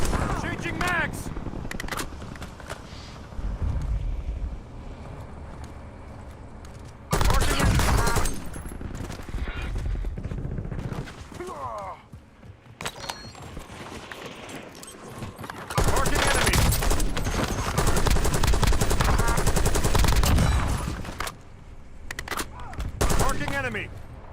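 Bursts of automatic gunfire and rapid shots from the video game Warzone come in loud bursts separated by quieter stretches, with in-game voices calling out between them.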